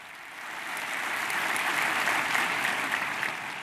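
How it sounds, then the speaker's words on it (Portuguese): A large crowd at an outdoor papal Mass in Santiago, Chile, applauds Pope Francis, the clapping swelling from moderate to a sustained, distant wash of many hands. "Santo Padre aplaudido nesse momento"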